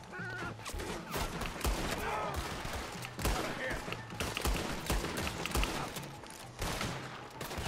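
Rapid gunfire crackles through a Red Dead Redemption 2 shootout, with repeated sharp shots and bursts spread across the whole stretch at moderate loudness, while someone talks over the fighting.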